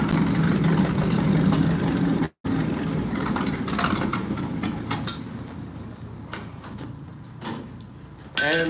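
Tractors idle and rumble in the background of an Iowa grain farm as equipment is put away, a steady low engine drone with scattered clanks and knocks, one brief dropout, and no talk.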